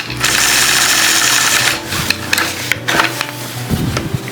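A sewing machine stitches crossover curves with Sway 4 and Sway 5 rulers, running in a steady loud whir for most of the stretch before stopping. Scattered clicks and light handling knocks follow.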